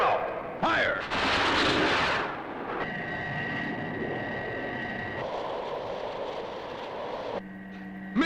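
Missile launch and gunfire in the Thunderbirds TV show, a burst of loud blasts and roaring explosions up front, followed by sustained mechanical droning and whining tones with brief vocal sounds in between.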